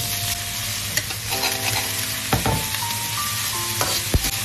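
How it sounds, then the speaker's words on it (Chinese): Celery stir-fried in a wok with scallion and ginger in hot oil: a steady close sizzle, with the metal spatula scraping and clanking against the wok several times. "锅里的鱼油倒入葱姜末炒香，再倒入芹菜炒至断生"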